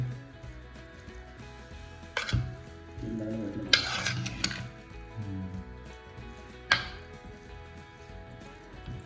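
A spoon stirs fish curry with village-style and Kashmiri masala, oil, turmeric and salt in a pot, giving a steady soft scraping with a few sharper clinks against the metal.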